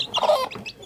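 Chickens cluck loudly and close by at feeding time on a small home farm, a quick burst of several clucks with no talk.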